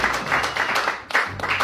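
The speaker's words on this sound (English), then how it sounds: "let's applaud Esme." Audience applause, a steady wash of many hands clapping at once, fairly loud and close, with a brief dip before it swells again.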